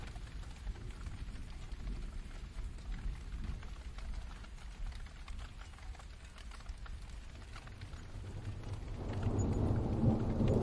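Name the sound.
rain falling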